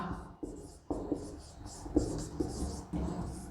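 Chalk or marker strokes on a board during a maths lesson on quadratic equations, a few short scratchy taps and scrapes close by in a quiet room, with no talking.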